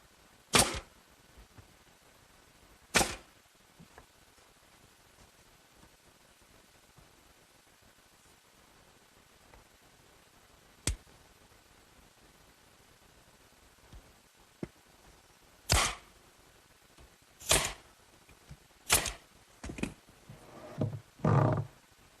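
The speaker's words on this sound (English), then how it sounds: "I'm going to assemble the bins using some construction adhesive and some 1¼ galvanized finish nails." Sharp, isolated taps of 1¼-inch galvanized finish nails being driven into wooden garden bins on a workbench, spaced seconds apart and then quickening into a cluster near the end, crisp and close in an otherwise quiet room.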